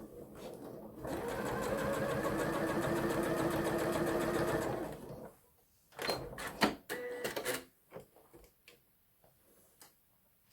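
A sewing machine stitches Hong Kong binding in the ditch, running in one fast, steady rattling burst for about five seconds before stopping, followed by scattered clicks and handling noises.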